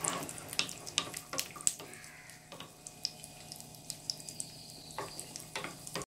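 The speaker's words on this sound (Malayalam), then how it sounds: "ആദ്യം അണ്ടിപ്പരിപ്പ് നമുക്ക് വറക്കാം." Cashew nuts fry in a pan for pachoru, a Kerala sweet rice dish. Soft crackles and scattered pops run alongside light stirring and scraping clicks, quiet and close, with no talking.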